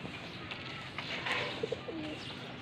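Soft coos from a baby pigeon, a few short low calls, close by against steady outdoor background noise.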